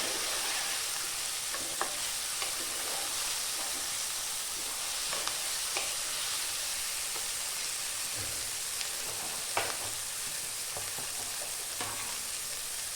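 Green chillies slit lengthwise frying in a hot pan, a dense steady sizzle with scattered light stirring taps, close and continuous.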